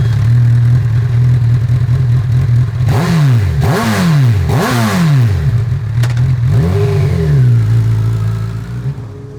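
A 2021 Honda CB1000R Black Edition motorcycle engine revs hard through several quick rising pulls, roaring loudly close by before easing to a steady idle-like hum that fades slightly at the end.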